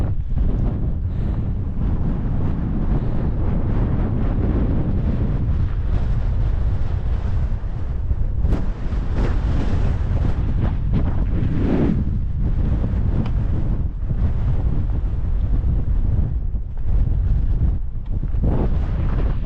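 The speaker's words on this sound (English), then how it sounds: "It's windy as hell and it's cold as hell." Strong wind on the exposed summit of Max Patch on the Appalachian Trail roars and buffets the microphone continuously, with gusts swelling and easing across the whole stretch.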